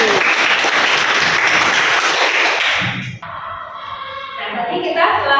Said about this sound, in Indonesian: tepuk tangan untuk Natali